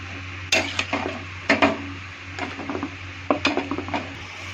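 Cleaned goat head meat is mixed by hand in a bowl, with wet squelching slaps and clinks in uneven bursts, close, over a low steady hum and without talking.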